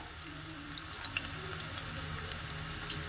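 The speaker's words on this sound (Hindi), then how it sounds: "ये देखिए प्याज मेरी फ्राई होने लगी है।" Onions frying in oil for kali mash dal with spinach, a steady close bubbling sizzle that carries on evenly throughout.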